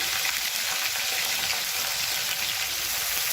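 Cumin, red chili, curry leaves, green chili and garlic sauté in hot oil for an egg masala, giving a steady, dense sizzle up close that runs unbroken throughout.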